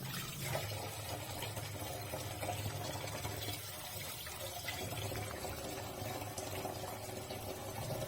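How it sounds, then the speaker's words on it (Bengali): Tulsi leaves washed in water, a steady close splashing and trickling of water that runs continuously at moderate level without speech. "তুলসী পাতাগুলো ভালোভাবে ধুয়ে নিলাম"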